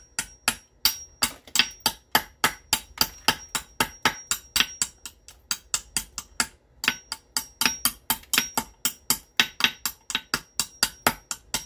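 Rapid, regular strikes of a knapping hammer on flint, trimming a flake into an English-style gunflint; dozens of sharp, close, bright clicks in a steady rhythm with a brief pause midway, no talk.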